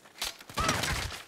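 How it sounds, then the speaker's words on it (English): Enemy gunfire in the Saints Row video game, a short close burst of sharp cracks that runs straight into a denser rattling volley lasting about a second. "He's shooting through this."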